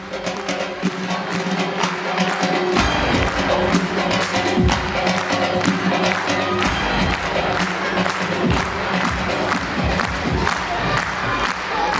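An audience at a vocal studio concert applauds and cheers loudly and steadily, a dense clapping roar with shouts mixed in and music playing beneath it.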